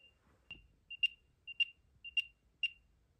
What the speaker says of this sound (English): if you tap the sound icon it will play a loud beeping sound